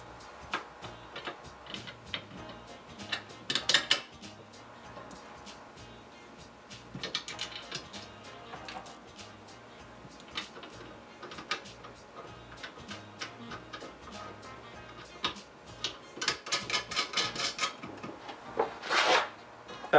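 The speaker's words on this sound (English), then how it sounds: "Seven-sixteenths open-end wrench and seven-sixteenths socket. Just lightly tighten them up" Seven-sixteenths open-end wrench and socket lightly tightening bolts during a double arm assembly, heard as scattered small metallic ticks and clicks in close, quiet bursts with no talking.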